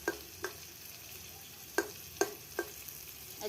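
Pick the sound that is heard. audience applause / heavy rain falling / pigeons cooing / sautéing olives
sautéing olives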